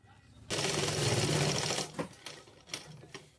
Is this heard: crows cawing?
no